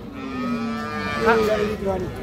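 A cow moos once in a long, low, drawn-out call close by at a cattle market, with a brief rise and fall in pitch.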